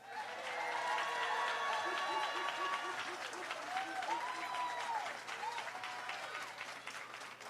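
A crowd applauds warmly for Quinta Brunson at a ceremony giving her the key to the city of Philadelphia, a dense sustained clapping that fades slightly toward the end, with faint voices mixed in.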